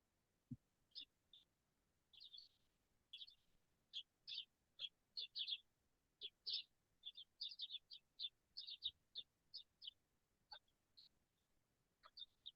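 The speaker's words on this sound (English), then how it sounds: "Either the birds at Amy's house or Claire's house, they're all singing together." Small birds sing outdoors around a house, bright repeated chirps and short trills in quick irregular bursts, faint and somewhat distant against a quiet background.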